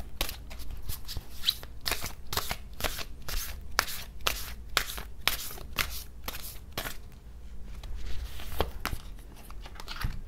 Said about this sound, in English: I'm going to pull a card from my new deck, Kyle Gray's Angels and Ancestors.